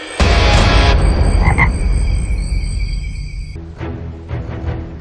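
Loud, close tomato frog croaking in Madagascar, a rough rasping call layered with high ringing tones, fading partway and then resuming more softly.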